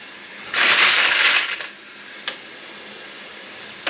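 Range brass cartridge cases rinsed in a wet tumbler give off a loud burst of metallic clinking and rattling for about a second, then fade to a faint hiss with one small tick.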